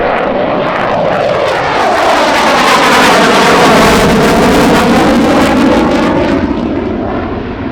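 A single-seat jet warbird capable of over twice the speed of sound flies past at the EAA AirVenture Oshkosh 2025 airshow, a loud, continuous, swelling jet roar that fills the whole stretch.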